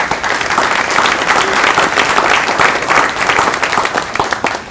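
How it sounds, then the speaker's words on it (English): Loud, dense applause from a banquet audience at a high school athletic hall of fame dinner, sustained and even with a roar of many hands clapping at once. "Can I hear your applause?"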